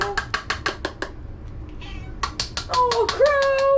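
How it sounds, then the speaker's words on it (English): A male cat meows in a quick series of short, repeated calls that break off, then return with a longer, drawn-out meow, heard close by indoors. "He goes, meow!"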